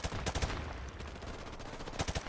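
Rapid bursts of gunfire in the video game Call of Duty Modern Warfare Remastered, with quick clusters of shots at the start and end and softer firing between, all fairly faint.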